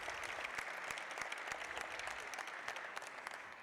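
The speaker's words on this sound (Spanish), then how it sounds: "Un aplauso, por favor." An audience at a book presentation breaks into steady, dense applause, many hands clapping at once, heard from a slight distance with no voices on top.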